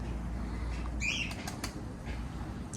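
Wings flap in quick bursts as tumbler pigeons take off and circle, with a few brief chirps over steady outdoor background noise.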